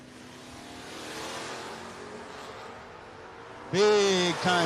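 Drag race cars launching at a No-Box 660 Shootout, a Mustang and a Capri: a low idling rumble under an announcer's voice, then a sudden loud engine roar near the end.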